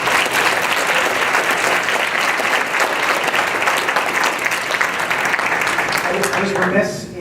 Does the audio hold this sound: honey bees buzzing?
no